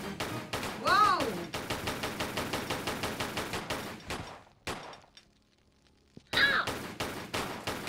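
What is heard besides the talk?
pistol gunfire in the video game Tomb Raider 3 Gold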